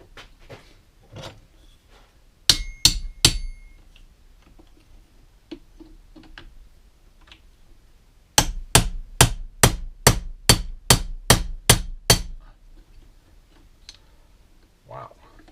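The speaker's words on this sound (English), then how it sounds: "Just have to hammer it on it some more" Sharp metallic hammer strikes on a knife handle, an early cluster of three blows followed later by a fast, even run of about nine hits, close and loud over quiet room noise with faint movement between.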